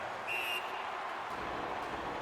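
A referee blows one short, sharp whistle blast during an NHL 19 franchise-mode hockey game, heard over a continuous wash of arena crowd noise.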